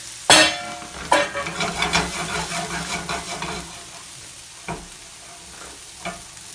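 Mushrooms tipped into a hot oiled pan for a mushroom and tofu stir-fry, a sharp crackling sizzle at the start that settles into quieter frying with a few light pan knocks, no talk.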